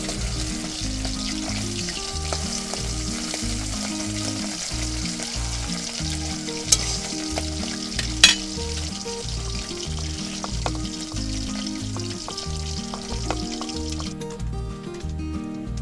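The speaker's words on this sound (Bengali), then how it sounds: "তাহলে সুন্দর করে আমি লাল লাল করে ভেজে নেব" Bata fish pieces fry in hot oil in a pan with a dense, continuous crackling sizzle, close and steady, marked by a couple of sharp clicks of a utensil.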